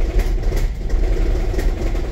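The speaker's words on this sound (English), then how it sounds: "I have turned the EC on, and as you can see, the engine has started" The 1.5 hybrid engine of a 2009 Toyota Prius idles with a misfire, giving a loud, close, low rumble with an uneven, pulsing rattle and no speech.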